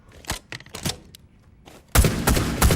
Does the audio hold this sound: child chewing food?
no